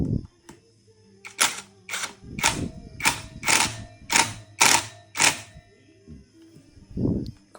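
Screw being tightened during an overhaul of a jammed Honda Ex5 motorcycle gearbox: a run of about eight sharp, evenly spaced ratcheting clicks, close and fairly loud, with faint low handling noise between them.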